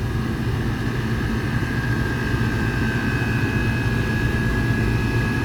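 An air conditioner compressor drawing unusually high current runs with a loud, constant, low-pitched drone and a faint steady whine above it. The sound stays unbroken and close throughout.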